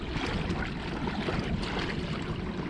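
A Motorguide Xi3 trolling motor pushes a Hobie Outback kayak at three-quarter power, giving a steady, close whir and hum over constant water rush and wind noise, with no talking.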